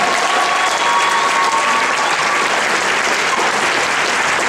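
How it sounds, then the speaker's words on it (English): A large crowd at an anime convention masquerade applauds steadily, a thick, continuous wash of clapping with no talk over it. "So I'd like to have a big round of applause for all of our judges"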